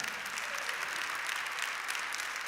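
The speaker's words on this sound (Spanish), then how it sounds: "dale el aplauso" A church audience claps in steady applause, moderately distant and continuous, with no single claps standing out.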